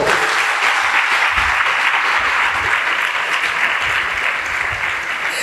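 Loud, sustained applause from a large crowd at a Christian worship service, dense clapping filling the whole stretch without a break.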